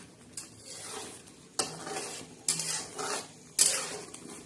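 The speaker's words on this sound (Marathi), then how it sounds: "अजून मसाला छान असा परतून घ्यायचा आणि छान असा शिजू द्यायचा." A spoon stirs black masala frying in a pan, scraping and clinking against the metal in several separate strokes over a soft sizzle. The sound is close and fairly quiet, with no talking.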